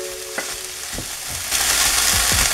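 Onions and celery frying in a pan for a chicken macaroni casserole, a close, bright sizzle broken by several soft utensil taps and stirs, growing louder partway through, with no talking.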